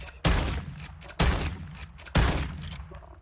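Three heavy gunshots from Warzone 2 ring out at a steady pace, each a loud sharp crack with a booming low tail that decays before the next round.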